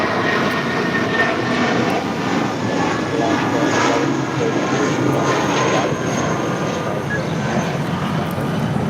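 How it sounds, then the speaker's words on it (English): A JetBlue Airways Airbus A320 takes off at LAX with a loud, steady jet roar that fills the whole stretch, without talk. "This is JetBlue Airways 1732 taking off to Salt Lake City on an A320"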